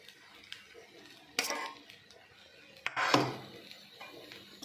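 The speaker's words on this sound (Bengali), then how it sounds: "এবারে আমি চিকেনটা দিয়ে দিচ্ছি।" Chicken pieces going into a pan with a little oil while cooking egg chicken chow mein, heard as two brief clattering bursts of utensil and pan contact at moderate volume, with quiet kitchen background between and no talk.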